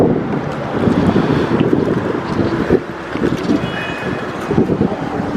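Wind buffets the microphone with low, gusty rumbling throughout, rising and dipping in strength over several seconds, on a street in Crewe.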